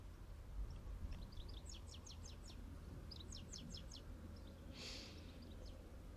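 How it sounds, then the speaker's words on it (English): Bird chirping in short rapid bursts, several quick trills repeating against a steady low background hum, with no one talking. "thank you to that bird for filling the silence there"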